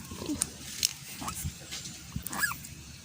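A black pig kept by a family, injured with bite wounds, gives short grunts and squeals scattered over a few seconds, close by, mixed with faint background noise and voices.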